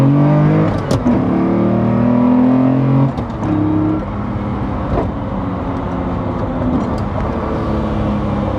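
A 1996 Lamborghini Diablo engine drives loud and close, its tone rising and dropping through several gear changes with sharp shift breaks, then settling into a steady cruising drone.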